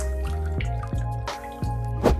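Water drips from a toy shower into a baby bath in a run of distinct plops and drips, irregular and close, with a few louder splashy drops toward the end and no talk.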